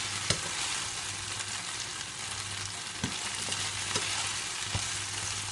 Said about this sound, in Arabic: ونبقاو كنقلبوا فيهم هكا حتى يتحمروا من كل الجوايه.